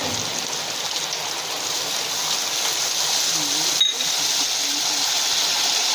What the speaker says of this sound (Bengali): এবার আমরা হালকা পরিমাণ জল দিয়ে দেব